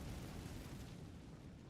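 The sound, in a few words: fire spell cast in Hogwarts Legacy video game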